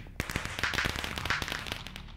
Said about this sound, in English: No fireworks inside the house.